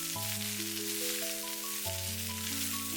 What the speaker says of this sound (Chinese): 接下來把煎制好的香芋也倒在鍋中，快速翻炒均勻